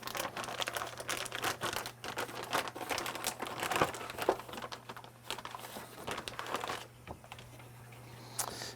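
A sheet of photographic printing paper is handled and crinkled close by in a darkroom, with a quick irregular series of crisp rustles and taps over a low steady hum.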